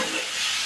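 Tomatoes and onions being mixed in a pan for a roasted eggplant bharit, a brief, loud, steady hiss of frying with no voices.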